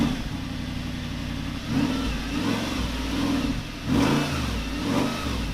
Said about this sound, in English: let's get on with the launching of the R8